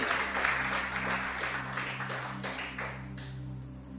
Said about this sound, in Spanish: Un aplauso fuerte al Dios que vive